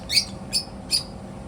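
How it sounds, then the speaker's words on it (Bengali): A budgerigar squawking outdoors among trees, three short, sharp, high squawks evenly spaced over a quiet background, fairly near. "বদ্রি পাখি মনে হয়।"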